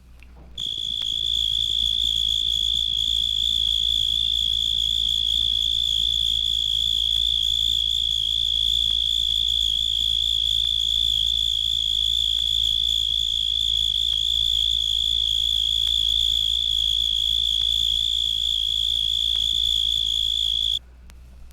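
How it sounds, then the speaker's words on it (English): Black-horned tree cricket (Oecanthus nigricornis) on coarse weeds sings a clear, sweet, unbroken trill, loud and steady for about twenty seconds before stopping abruptly, with a low hum beneath. "the first of the tree crickets adds a clear, sweet trill to the chorus"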